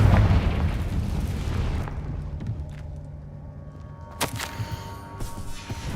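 A Confringo fire spell bursts in Hogwarts Legacy, a sharp blast near the four-second mark followed by a few smaller pops, with low game ambience rumbling underneath before and after.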